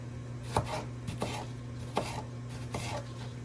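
Knife roughly chopping onion on a board for a pan-fried tofu and brown rice dish, with four evenly spaced, fairly soft chops over a steady low kitchen hum.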